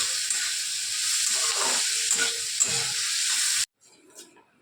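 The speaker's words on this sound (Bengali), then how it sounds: "আর ভাজাটা বসিয়েছি ভাজাটা হতে থাকুক" Food frying in a pan in a home kitchen, giving a steady, close sizzling hiss that runs evenly and then stops abruptly near the end.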